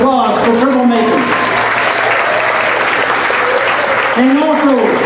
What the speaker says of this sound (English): Let's give a round of applause for Treblemakers.